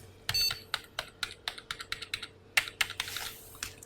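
Keys clack on a computer keyboard during a motherboard BIOS repair, a quick, irregular run of close, crisp taps with no talking.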